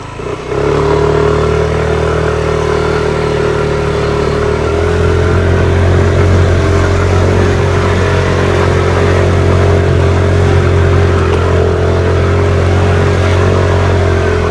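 A motorcycle engine starts up and keeps running, a loud steady rumble close by that holds at an even idle throughout, with no talking.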